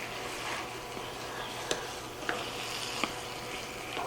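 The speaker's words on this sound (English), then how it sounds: "I'm gonna stir this up." Canned ingredients stirred in a pot on the burner: a quiet, steady background simmer broken by three light clicks of the spoon against the pot, faint and close.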